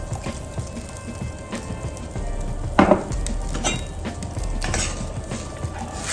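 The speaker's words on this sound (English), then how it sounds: "Okay, so here goes my lemon juice." Lemon juice is poured into a hot pan with butter while cooking haddock piccata, and it sizzles and crackles steadily. One brief clatter of a utensil or the pan sounds near the middle.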